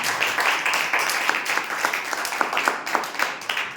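A church congregation claps together at a Palm Sunday service, a steady, dense wash of applause that carries on evenly throughout, loud and close with no voices rising above it.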